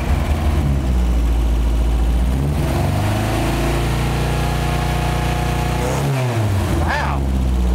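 The rough, shaking engine of an abandoned 1977 Toyota Hilux six-wheeled mini truck with timing off, running loud and uneven close by with a low droning rumble and a brief dip and revving surge toward the end.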